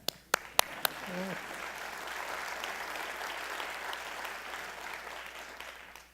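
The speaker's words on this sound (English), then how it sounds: "You can clap." A university audience at a provost's talk claps: a few sharp, separate claps open, then a brief voice, then a soft, steady spread of applause from many hands that gradually tapers off.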